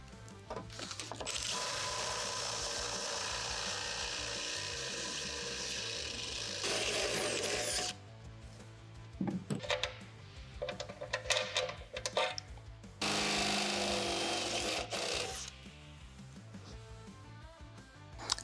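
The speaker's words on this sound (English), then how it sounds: "Now that we've got our holes drilled," A power drill with a step bit grinds and whines through metal bed stiffeners on a 2024 Toyota Tacoma in several long bursts, separated by pauses with clattering and handling noises.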